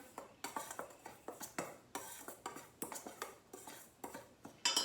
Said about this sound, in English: Take this spoon, I'm gonna mix it together.